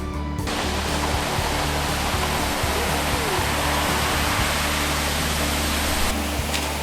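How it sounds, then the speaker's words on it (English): Steel-fibre concrete slurry pours from a concrete truck into footing trenches, a continuous rushing, gushing flow layered over a steady low engine rumble and hum. "We're going to pour some footings."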